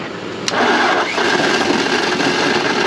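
A tractor engine with a weak battery cranks over with a loud, continuous mechanical churn after a brief click, sustained and close, with no voices.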